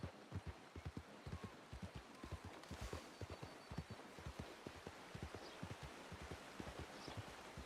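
Horse hooves clip-clop steadily in the Wild West game Red Dead, a regular rhythmic trot of sharp knocks over a soft outdoor rustle, fairly close and unaccompanied by talk.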